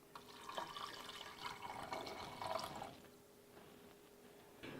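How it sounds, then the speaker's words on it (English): Vegetable broth pours into a deep pot of French onion soup base, a steady, soft splashing stream lasting about three seconds before tapering off into quiet. "now we're going to add the veggie broth"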